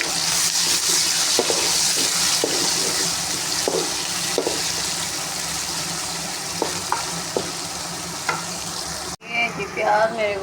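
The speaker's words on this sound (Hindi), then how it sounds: "ये मैंने घी रख दिया ऊपर 1 कप, इसके अंदर मैं प्याज डालूँगी।" Onions sizzle steadily in a pan of hot ghee, a loud continuous frying hiss with occasional stirring clicks, and the sound changes sharply near the end.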